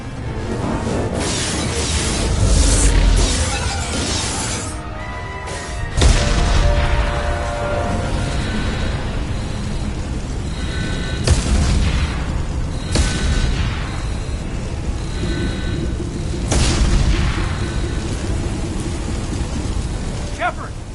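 A starship comes under attack in the Mass Effect 2 video game, with explosions, hull breaches and a fire on board. A loud, continuous roaring rumble is broken by repeated heavy booms and crashes, and voices can be heard in the chaos.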